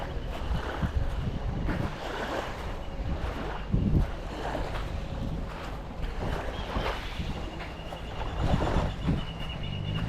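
Sea waves wash at Itaguaçu beach in Coqueiros, Florianópolis, a steady rushing surf with periodic swells, mixed with gusty wind buffeting the microphone and no talking.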